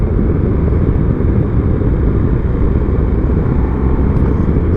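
A BMW R1250GS motorcycle on a leisure ride, its engine and wind roar holding a steady, loud, continuous drone throughout with no pauses.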